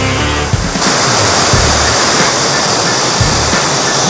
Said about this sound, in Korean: 물이 시원하게 내려가고 있어요.